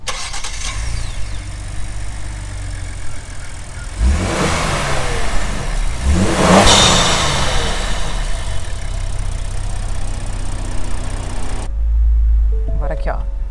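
A Chevrolet Blazer RS SUV's V6 engine fires up with a burst, then revs in two rising swells before settling into a steady idle; loud and close, heard from the cabin, with a brief quiet near the end.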